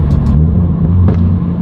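A Subaru BRZ ZD8 fitted with a Tomei full titanium dual muffler on the move: a close, deep, steady exhaust rumble at a low, even engine pitch, with a couple of faint higher clicks.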